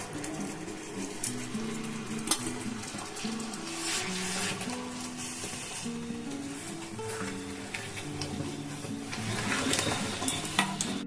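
Ground grated coconut filling cooks in a pan while a utensil stirs and scrapes it, making repeated rhythmic scraping strokes over a light sizzle, with a faint tonal hum underneath.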